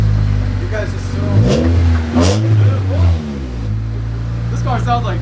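A car engine revs up and down several times close by, a rough, throaty low growl rising and falling over a steady idle, with people talking over it.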